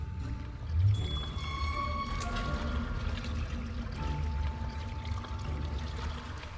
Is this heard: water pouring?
yes